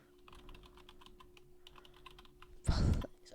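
Quick, light key taps on a computer keyboard while a folder name is typed, with soft clicking close by and then a louder thump near the end.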